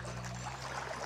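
Water pours steadily into a garden pond being filled over a freshly laid liner, a continuous close trickling and splashing flow with no voices.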